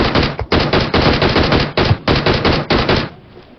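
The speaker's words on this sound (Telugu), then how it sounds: "పక్క నుంచి కాల్చాడు, లెఫ్ట్ నుంచి." Loud, rapid bursts of automatic gunfire from a battle royale video game, several volleys fired back to back in quick succession with brief gaps between them and no voices over the shooting.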